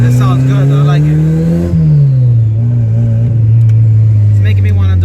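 A turbocharged Honda Civic engine revs hard and loud from close by, its exhaust note climbing, dropping briefly as the throttle shifts, then holding a steady drone, with a person speaking over it.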